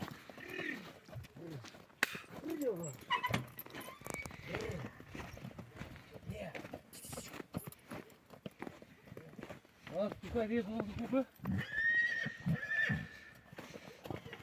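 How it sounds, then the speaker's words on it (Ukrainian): Horses, two mares and a stallion, neigh and whinny several times nearby, with hooves clip-clopping and people talking over and between the calls. "Кобила, кобила і жеребець."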